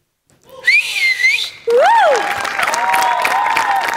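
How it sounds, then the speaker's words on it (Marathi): A studio audience at a Marathi television comedy show bursts into loud, sustained applause after a skit, with sharp whistles and cheering layered through the clapping. "जोरदार टाळ्या"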